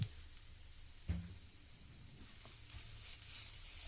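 Curry leaves hit a hot pan of coconut mixture while a banana stem dish cooks, giving a soft, steady sizzle with a sharper crackle near the start.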